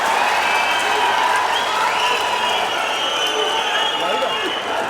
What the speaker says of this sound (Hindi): जोरदार तालियों से स्वागत आदरणीय प्रधानमंत्री जी का।